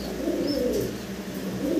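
A pair of grizzle-coloured fancy pigeons, a Hungarian breed, coo softly and low nearby in a brief, steady murmur, with a faint chirp from another bird and no speech.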